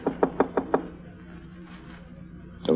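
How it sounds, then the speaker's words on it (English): Five quick knocks on a hotel room door as a radio drama effect, evenly spaced and moderately loud, followed by a quiet pause. "knocked on his door."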